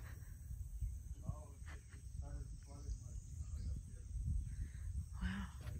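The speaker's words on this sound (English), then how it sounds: "There's some croaking." Creatures croak by the water on a calm Florida morning, a series of faint, rasping pulses sounding through low ambient hum and insect chirring, with soft voices nearby.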